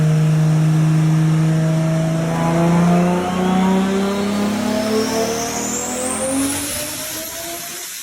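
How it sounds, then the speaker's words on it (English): Turbocharged car engine revs hard and close, its note climbing steadily as a rising turbo whistle spools up over the top, loud and continuous with no talk. "This turbo sounds amazing."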